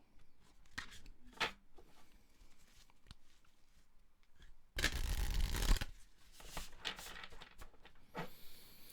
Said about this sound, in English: One more shuffle, and I'm just gonna cut them and take them.